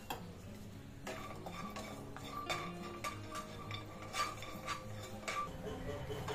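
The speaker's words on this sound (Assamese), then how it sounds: "নাৰিকলখিনি মই অলপ শুকান শুকানে ভাজি লওঁ" Grated coconut dry roasting in a pan, heard as quiet repeated scraping and tapping of a spoon stirring against the metal at an uneven rhythm, close and fairly faint with no voices.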